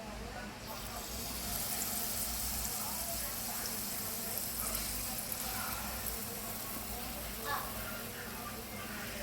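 Banana fritter batter fries in a pot of hot oil with a steady, dense hiss and crackle, while a person talks over it.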